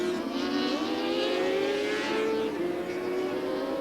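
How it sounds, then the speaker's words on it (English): Racing motorcycle engine at a 1990 Snetterton support race, a loud sustained high-pitched whine held near the microphone, with a gear change partway through and a second machine trailing close behind. "You can hear that motorcycle behind."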